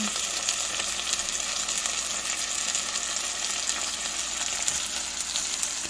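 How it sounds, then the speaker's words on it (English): Lamb chops sizzle with rosemary in a cast iron pan, giving a steady loud close frying hiss that goes on without a break and has no voices over it. "the reason why I put the rosemary in here is just so that it infuses while the lamb is cooking"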